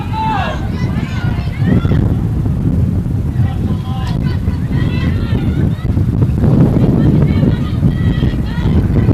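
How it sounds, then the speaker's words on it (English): Wind gusting across the microphone at Pepin Stadium during a women's college soccer match, a steady rumbling roar with a commentator talking over it. "The wind picks up here at Pepin Stadium"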